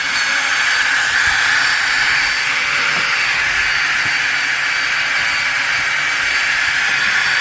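An RC wall climber's small suction fan whirs with a steady high-pitched hiss and drone, like a vacuum cleaner, loud and close, running without a break.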